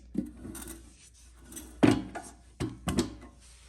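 Lid of a heavy Harbor Freight US General toolbox being opened, with a few separate wooden-sounding knocks and rubbing thuds spread over several seconds, close and moderately loud.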